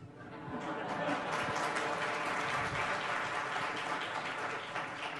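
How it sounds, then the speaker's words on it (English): Applause from a conference audience at the India Today Conclave: a dense, steady wash of clapping that rises quickly and carries loudly through the whole stretch, with speech faintly present underneath. "Including the applause that I'm getting."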